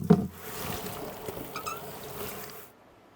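Soapy water trickles and splashes faintly while Honda XR motorcycle parts are washed in a tub, a soft steady liquid wash with a brief louder splash at the start.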